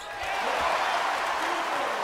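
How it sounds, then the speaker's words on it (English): A basketball arena crowd during a college game roars and cheers in a dense, sustained wash of noise, with faint sneaker or ball sounds beneath. "This crowd is back in it and on its feet."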